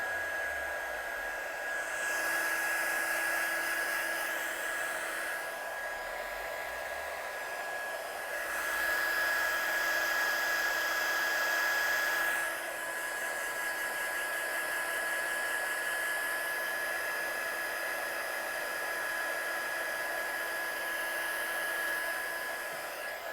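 A hair dryer blows steadily to dry paint on a painted artwork in a studio, a continuous whooshing hum with a faint high whine, swelling louder in a few passes as it moves closer, with no talk.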